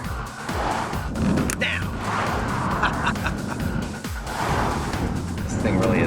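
A car covered in golf-ball-style dimples drives past, its engine and tire noise rising and falling repeatedly under frequent talk and a shouted command.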